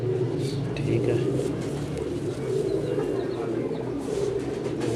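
Teddy pigeons cooing steadily at close range, low soft coos repeating through a constant murmur of other birds.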